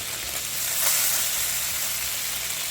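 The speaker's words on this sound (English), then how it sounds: "put a stick of butter in here. That'll be sizzling." A stick of butter sizzling in a hot pan, a loud, steady, close crackling hiss that swells briefly and then holds even throughout.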